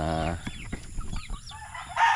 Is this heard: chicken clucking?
yes